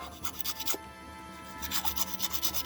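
Close-up rasping of a file or sanding tool worked back and forth over small model parts for a Gaslands fire truck to flatten surfaces, in quick rhythmic strokes with a brief pause midway.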